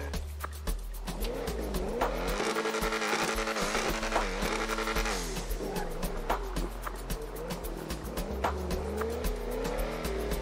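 An Audi R8 driven in a GTA video game, its engine revving up and down through gear changes with tire squeal and skidding, loud and continuous from start to finish with no talk.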